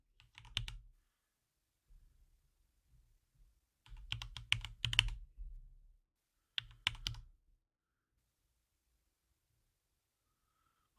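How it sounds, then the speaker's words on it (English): Typing on a computer keyboard during a VMware server lab class comes in three short clusters of crisp, close key clicks separated by quiet gaps. "I got to type that one."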